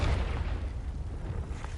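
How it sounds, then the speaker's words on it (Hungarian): A blast clears an obstacle in the video game Hogwarts Legacy, a deep, rumbling explosion that fills the whole moment with sustained low-end roar and no clear pauses. "Jó, ki kell robbantani."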